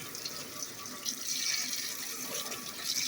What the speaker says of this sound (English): You take the water, you rinse it off,